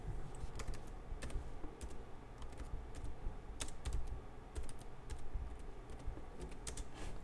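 Steady typing on a computer keyboard, a dense stream of close, moderately loud key clicks with irregular rhythm and occasional sharper taps, over a low background hum and with no voices.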